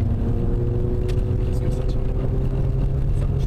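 A Citroën ZX Volcane with the 2.0i injection engine drives along winding roads, giving a loud, steady engine drone with road rumble throughout and no clear pauses.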